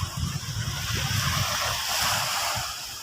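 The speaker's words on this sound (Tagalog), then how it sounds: "Medyo maalon." Choppy sea waves wash and churn at the shore on a windy morning, making a steady close rush with low rumbling surges and some wind buffeting on the microphone.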